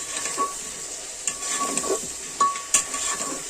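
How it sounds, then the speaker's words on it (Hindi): Cut potatoes being stirred into hot oil in a pan for aloo matar pulao, with a steady sizzle of frying and a few sharp scrapes and knocks of the spoon against the pan. "अब हम डाल देंगे इसमें कटे हुए ये आलू। बाकी इन सबको हमें मिक्स करना है।"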